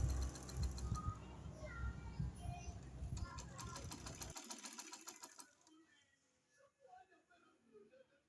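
Domestic sewing machine stitching a gathering seam on fabric with bobbin thread tension, running in a steady loud whir for about four seconds, then stopping to quieter handling noises.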